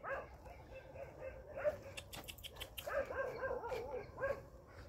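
A dog barks and yips in short bursts during an obedience training session, the calls fairly close and mixed with whimpering, with a faint voice and background noise underneath.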